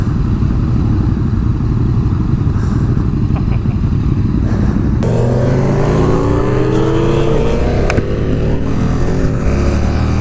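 Race cars on a track during a first free lap, a loud close engine drone from onboard that rises in revs midway with sweeping pitch climbs and gear changes, continuous and dominant.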